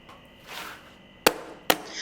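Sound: tapping a dessert tray on a table

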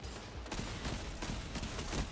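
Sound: Malfeasance hand cannon shots in Destiny 2 video game

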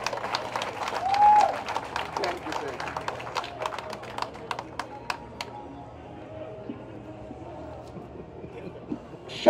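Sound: applause at a commemoration

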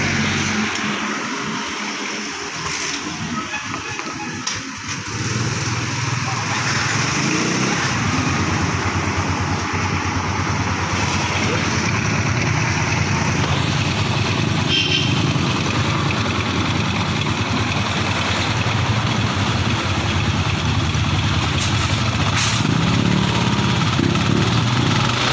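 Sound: Yamaha Sniper MX150 motorcycle engine running

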